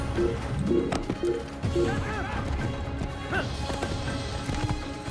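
Horse hooves clip-clop in the Assassin's Creed video game, a steady clatter of hoofbeats under busy game ambience with occasional crashes and a brief whinny.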